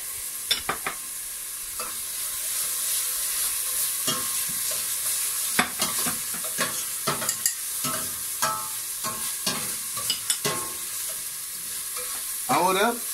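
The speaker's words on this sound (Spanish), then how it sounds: "Luego de la cebolla vamos a echar el ajo en una cantidad muy pequeña" Garlic and onion sizzle in a pan with a steady hiss, punctuated by repeated scraping stirs and clinks, close and moderately quiet with no talk.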